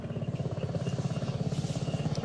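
A military helicopter's rotor beats steadily in a fast, continuous thumping chop with engine whine, loud and close, and no voices are heard.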